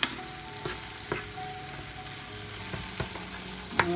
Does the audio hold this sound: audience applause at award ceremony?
no